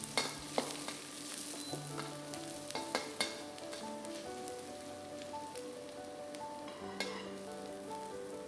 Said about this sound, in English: Add in your ginger and garlic. Stir fry these till they are fragrant.